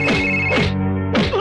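A telephone ringtone sounds in repeated electronic tonal bursts, loud and close, with no talking.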